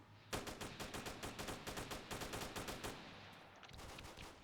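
Automatic gunfire in the military video game ArmA, a rapid burst of about twenty evenly spaced shots lasting nearly three seconds, then fading echo and distant rattle.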